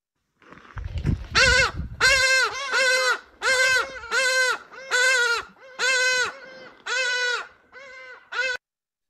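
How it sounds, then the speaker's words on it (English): Loud, harsh honking calls of a hadeda ibis in South Africa, about ten drawn-out nasal squawks in an even rhythm, close by and clear, following a brief rustle at the start. "Here's what they sound like."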